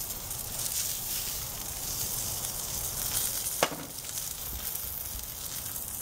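Burgers sizzle steadily on a griddle, a continuous close crackle and hiss throughout. One short scrape or clink stands out partway through, with no talk.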